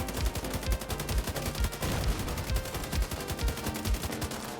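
Rapid automatic gunfire in The Division 2 PvP, likely an ACR-E or MK17 rifle, loud sharp bursts of shots in fast succession with a few brief gaps.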